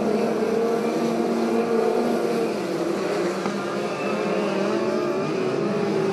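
Midget race cars drone around a dirt oval in a steady, continuous engine buzz at moderate distance. The pitch wavers slightly as the cars circle the track, and no voices are heard.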